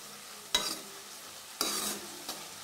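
Egg curry being stirred in a pan, with a few distinct scraping strokes over a soft, steady frying sizzle; no voices.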